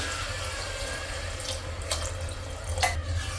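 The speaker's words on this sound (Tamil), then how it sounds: "தண்ணி ஊற்றிக்கிறேன்" Water pours steadily from a tap into a cooking pot, a continuous splashing stream with a few small clinks near the end.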